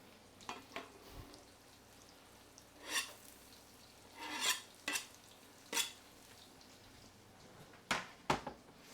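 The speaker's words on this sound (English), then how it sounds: "we're doing kind of a weird hybrid stir fry" Vegetables being stir-fried in a pan make faint, scattered scraping and stirring bursts over a quiet background, with soft sizzling between the strokes.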